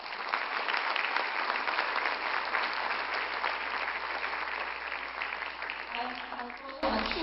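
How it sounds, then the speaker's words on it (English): An audience at a university event celebrating Indian Arrival Day in San Fernando claps in sustained, dense applause that stays steady and then cuts off near the end. "give a round of applause to the University of Trinidad and Tobago"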